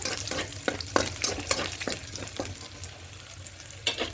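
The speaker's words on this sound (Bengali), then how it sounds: "দিয়ে একটু ভাজা ভাজা করে দেবো রসুনগুলো" Garlic sizzles in hot oil with dried red chillies and cumin seeds while a spatula stirs and scrapes the pan in irregular clatters, the frying hiss steady and close throughout.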